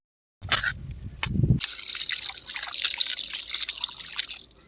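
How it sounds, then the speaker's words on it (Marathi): Water runs and splashes as food is washed during the cooking of Karnataka-style chicken, a close trickling gush after a brief clatter, continuing steadily for several seconds before fading. "आपण असा छान धुवून घेत आहे स्वच्छ धुवून घेतल्यानंतर"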